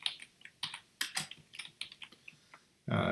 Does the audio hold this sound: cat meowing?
no